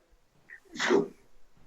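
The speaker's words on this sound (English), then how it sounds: "sorry, I just had to sneeze." A single sharp sneeze, close and fairly loud, with a short breathy intake just before it and quiet afterward.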